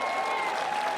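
Crowd at a men's singles pickleball championship cheering and applauding, a dense, loud wash of clapping and shouting that fills the whole moment.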